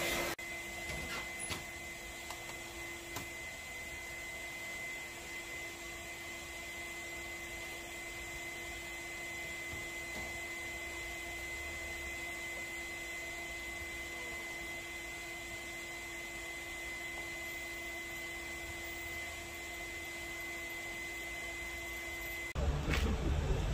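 A vacuum cleaner whirs at a steady pitch for a long stretch inside a car interior, a constant droning motor with a sharper burst of noise right at the end.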